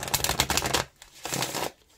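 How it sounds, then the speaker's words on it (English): A large double tarot deck being shuffled by hand, two quick bursts of close, crisp riffling and slapping cards with a short pause between. "I like shuffling it real good."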